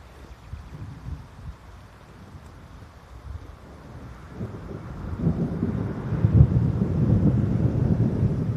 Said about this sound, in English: Hear the thunder, folks.